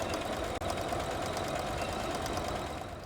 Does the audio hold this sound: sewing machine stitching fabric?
yes